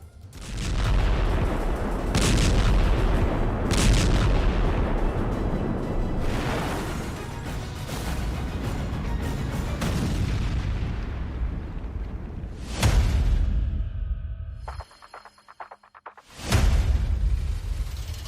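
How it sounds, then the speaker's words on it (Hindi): Repeated heavy blasts and booms from an Israeli air force strike rumble one after another over a continuous roar, followed by a brief near-silence and then another loud burst. "इजरायली एयरफोर्स एक्टिव हुई और फिर एक बड़ा सा धमाका हुआ"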